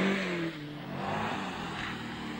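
A rally car runs along a stage of the 1978 Lombard RAC Rally, its engine note droning and rising moderately loud and steady over a short stretch, with no voices over it.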